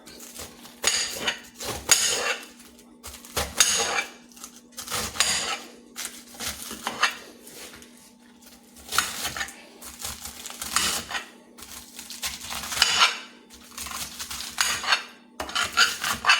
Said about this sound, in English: take this head of lettuce and chop it in half. And then you take that and you choppy chop.